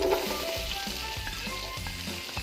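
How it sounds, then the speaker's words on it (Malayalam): Long-sliced onions dropped into hot butter in a pot for chicken mandi, giving a loud, dense sizzle with a few stirring knocks, close and continuous, no speech. "2 മീഡിയം സൈസുള്ള 2 സവാള നീളത്തിൽ അരിഞ്ഞതാണ്. അതും കൂടി ഇതിലേക്ക് ചേർത്ത് കൊടുക്കാം."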